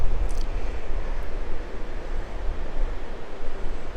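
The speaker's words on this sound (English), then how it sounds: "River's flowing towards the camera." The Cheticamp River in Cape Breton flows beside a trail near the salmon pools, giving a steady, broad rushing wash of moving water, fairly loud and continuous with no talking.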